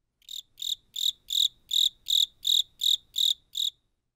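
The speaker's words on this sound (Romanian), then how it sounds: "Greier." A cricket chirps in ten evenly spaced, bright pulsing bursts, close and clear against an otherwise silent background.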